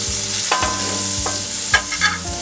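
Vegetables sizzling in vegan butter in a pan with a steady bright hiss, punctuated by a few light scraping stirs, close and loud with no talking.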